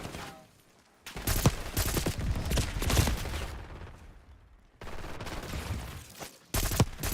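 Rapid automatic gunfire in a Black Ops 6 team deathmatch, loud bursts of shots in long stretches broken by brief lulls.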